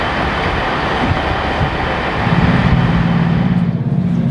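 Train pulling out of Nottingham station, a close, steady rumbling cabin noise with a low engine drone building partway through, no voices.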